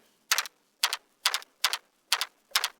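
Synthesized servo motor effect built in Phase Plant: six short, bright mechanical whirring bursts in an even rhythm, each about a quarter second long and separated by brief silences.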